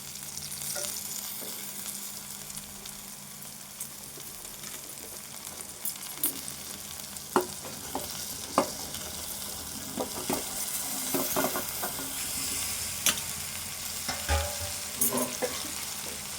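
Okra frying with onion and green chili in a pan over low heat, a steady sizzle with irregular stirring scrapes that grow busier partway through.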